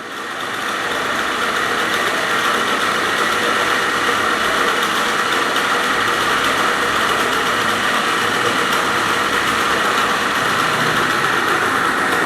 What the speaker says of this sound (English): this motor is running on 200 RPM